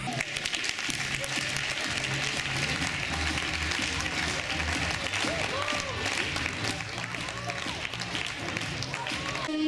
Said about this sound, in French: vous pouvez l'applaudir et l'encourager.